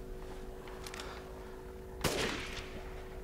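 A single sharp gunshot blasts out in Resident Evil Village, its echo trailing away briefly after some faint earlier clatter.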